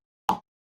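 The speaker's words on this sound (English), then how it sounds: "What I used as my main snare was the cereal box sound." A single short, crisp slap from a cereal box used as a snare drum sample, close and alone, decaying fast into silence.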